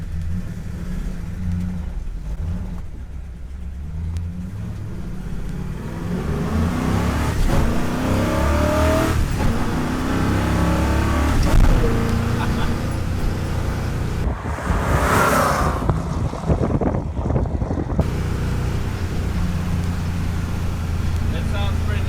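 A 1968 Ford Mustang with its original 289 swapped for a 347 V8 idles, then revs and pulls away, its loud engine rising and falling up close, with people talking over it.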